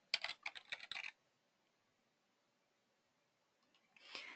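Quiet typing on a computer keyboard: a quick burst of close key clicks, then near silence, then another short flurry of keystrokes at the end.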